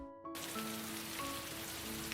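Heavy rain pours down at night, a dense steady hiss that starts abruptly after a short silent moment and stays loud and even to the end, with faint tonal hum beneath.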